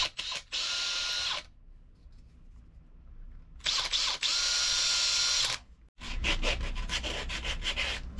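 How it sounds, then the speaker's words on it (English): A power drill drives counterbore screws in several bursts, whirring loudly for a second or two at a time with quiet gaps between, then a rougher rattling drive at the end. "I'll start one there and start one here, and then drill them through."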